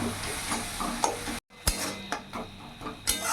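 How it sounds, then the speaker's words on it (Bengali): Potatoes and pointed gourd being stirred with masala in a pan, a spoon scraping and clinking against metal in repeated short strokes, with a faint sizzle underneath and a brief pause partway through. "এখন ভালো করে মিশিয়ে নেব মশলার সাথে আর ভালো করে কষিয়ে নেব"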